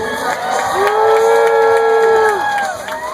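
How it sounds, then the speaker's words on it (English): Audience cheering and shouting at a tiger show, a loud crowd swell that rises and fades over a few seconds. "You hear that cheering out there, Connie?"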